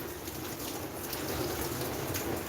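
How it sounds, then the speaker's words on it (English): Steady rain falls outdoors on young corn, sugar cane and strawberry plants, a dense even hiss that holds alone and unbroken from start to finish. "they are outside, enjoying the rain"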